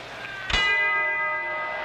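A single boxing bell strikes at the close of round two, a sharp clang that rings on with a long, sustained metallic decay.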